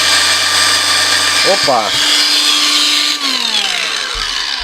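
Cordless ALLSOME PT037-N angle grinder running at first speed, a steady loud whine that holds level, with a brief exclamation from a man partway through.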